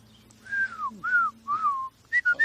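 A person whistles a short tune, a few clear sliding notes alone in quiet, ending with quick bright chirpy notes.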